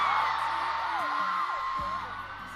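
A concert crowd in El Paso, Texas screams and cheers in a dense, continuous roar, with high whoops rising above the steady wash of noise.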